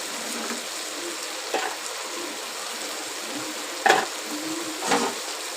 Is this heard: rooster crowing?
no